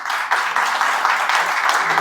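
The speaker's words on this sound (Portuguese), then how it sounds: "dá uma salva de palmas para Jesus" Church congregation applauding for Jesus, a dense, steady wash of clapping that holds for a couple of seconds with slight surges, loud and close.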